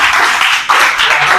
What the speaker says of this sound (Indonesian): kalau begitu kita berikan tepuk tangan pada kelompok